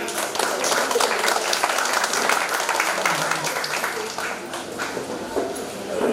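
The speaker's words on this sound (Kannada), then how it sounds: "ಎಲ್ಲರಿಂದ ಒಂದು ಅದ್ಭುತವಾದ ಚಪ್ಪಾಳೆ ಬೀಳಬೇಕು" Audience applause after a stage performance of song and music, a dense sustained burst of many hands clapping filling the space, fading slightly near the end.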